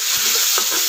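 Washed masoor dal fries in hot oil in a pan, giving a brief, loud, steady sizzle with a couple of soft stirring knocks.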